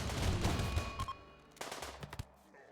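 Automatic turrets in the video game Rimworld open fire on raiders, rapid bursts of gunfire rattling in a dense volley, then sparser scattered shots as the shooting tapers off.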